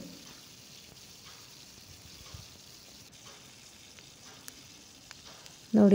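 Chicken leg pieces fry in oil on a tava with a soft, steady sizzle and sparse small ticks, ending in a sudden loud burst of noise.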